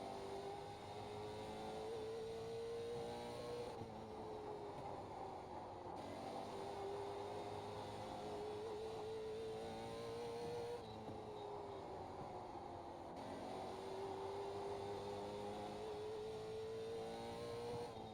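In the iRacing sim, a late model stock car runs a lap at Hickory, its engine droning loud and close, pitch rising and falling as it accelerates down straights and eases through turns.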